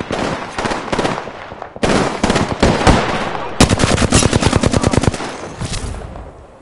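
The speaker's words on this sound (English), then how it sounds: "I'm getting shot!" Rapid automatic weapon fire from the battle royale video game Apex Legends comes in several loud, close bursts, with a sharp rattling stretch of fast repeated shots near the end.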